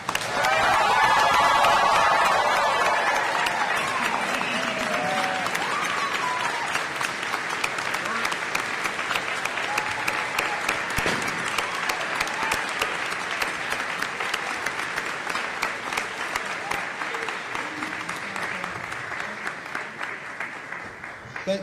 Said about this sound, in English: would you all please join me in one last rousing round of applause for Telstar's class of 2022